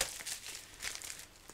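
A paper envelope being opened, with soft crinkling and tearing rustles in a quick, uneven series, close but faint.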